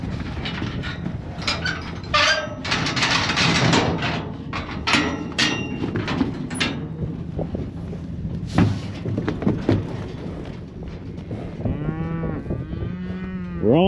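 Cattle on a ranch moo repeatedly, with loud close calls rising over a busy background of shuffling and knocking, and several long drawn-out lowing calls near the end.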